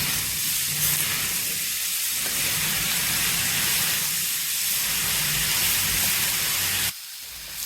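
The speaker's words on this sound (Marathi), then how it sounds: "ही भाजी देखील आपल्याला तेलामध्ये फ्राय करून घ्यायची आहे" Tandulsa bhaji greens fry in oil with onion-chili paste, producing a loud, steady, close hiss and sizzle that continues throughout and drops away abruptly near the end.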